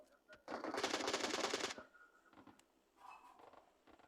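In the mobile battle royale game PUBG Mobile, a burst of rapid automatic gunfire rings out for about a second. A few quieter scattered shots and faint game noises follow.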